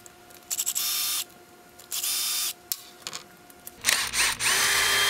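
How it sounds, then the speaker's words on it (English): A power drill spins out the cam cover bolts on a 2006–2017 Harley-Davidson Dyna during a cam chest install, with several loud bursts of whine separated by short pauses, close and alone. "If you're gonna use power tools for stuff like this, I recommend you use like a drill or screw gun"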